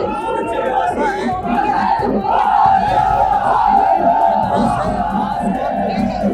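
A dense crowd at a Holi procession for Baba Vishwanath chants and shouts religious slogans, a continuous roar of many voices with rhythmic rising cries close by.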